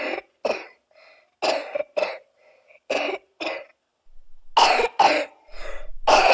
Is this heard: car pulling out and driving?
no